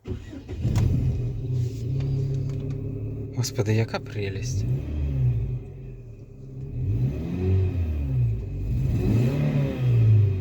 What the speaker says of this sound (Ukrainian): як вона запускається і працює тепер ця машина